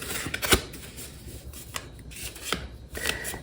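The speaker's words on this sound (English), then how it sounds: "I'm just gonna do a quick shuffle and then I'm gonna pick a card when it feels good." Quick shuffle of an Aquarian tarot deck printed in New York, about 35 years old: soft papery riffles and rubbing card noise, with one sharper snap near the start, close and fairly quiet, no voices.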